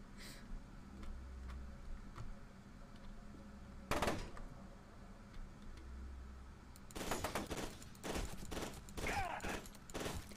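Gunfire in the video game F.E.A.R. 2: Project Origin, with a sharp shot near the four-second mark and then a dense run of rapid bursts in the last few seconds over a low ambient hum.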